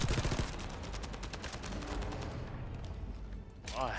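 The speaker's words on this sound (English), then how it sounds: "This thing runs out of ammo incredibly fast" A rapid-firing gun in The First Descendant rattles out dense, continuous bursts close up, then cuts off briefly before a short final burst.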